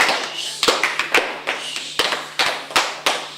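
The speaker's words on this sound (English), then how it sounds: "Everybody ready to clap?" Schoolchildren clapping their hands together in unison on a count, a series of sharp, near claps in a loose rhythm, about a dozen beats.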